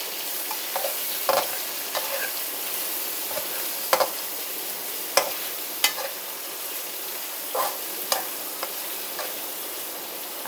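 Garlic and chicken sizzling in a pan while cooking spaghetti sauce, a steady close frying hiss broken by sharp clicks and scrapes of a spoon stirring against the pan, with no talk.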